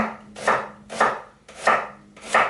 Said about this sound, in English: we want to do is just finely slice the onion